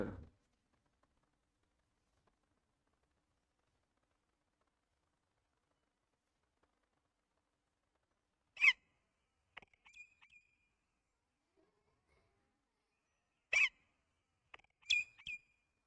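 Parrot calls, a few short sharp squawks and chirps spaced apart against near silence, fairly faint and clustered toward the end.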